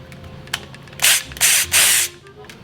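Screwdriver prying trim pieces off a Tesla Model Y Performance yoke steering wheel: a few small clicks and then three loud, harsh scraping bursts close by, with no talking.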